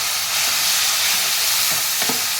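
Tomatoes hiss and sizzle loudly in a hot pan of eggplant poriyal. A steady frying roar fills the moment, and a couple of stirring scrapes sound near the end.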